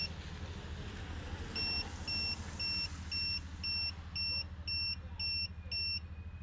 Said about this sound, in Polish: Musimy, moi drodzy, poczekać do hymnu kibica oraz sygnałów dźwiękowych, które nam po pierwsze podadzą odległość w dwóch cyfrach